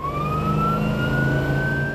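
An emergency vehicle siren wails loudly and continuously, its tone slowly rising, over a steady low traffic rumble.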